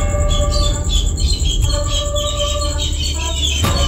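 Birds chirping and tweeting at a church, several thin repeated calls layered over a constant loud low rumble and hiss, with one sharp click near the end.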